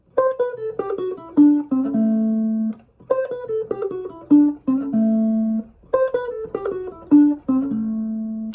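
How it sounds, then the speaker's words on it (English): Electric blues guitar in an early Chicago style plays a single-note passage up to speed, the same short phrase repeated three times with sustained notes at each phrase end, clear and close with no talking. "So here's the first passage using the same"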